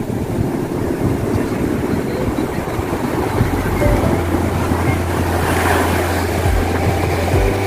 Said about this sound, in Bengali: দেখতে পাচ্ছেন ঢেউগুলো কেমন।